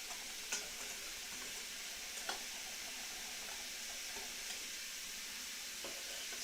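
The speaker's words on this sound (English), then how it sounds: "give this another stir" Homemade enchilada sauce sizzles steadily in a pan while being stirred, a continuous close bubbling hiss with occasional faint clicks of the utensil and no talking.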